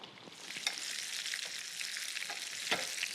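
Butter sizzling and crackling in a hot pan with roast salmon and fresh thyme, a close, steady fry with small pops and brief stirring scrapes, no voices.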